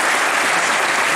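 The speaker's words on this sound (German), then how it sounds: "Das ist ein Applaus wert" Loud, dense applause fills a church hall as the barrel organ concert audience at St. Nicolai in Wittmund claps together, a continuous wash of many hands heard up close.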